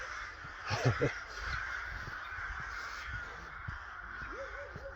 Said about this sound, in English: The crow's just going to peck my eyes out now. There's enough of them to do it.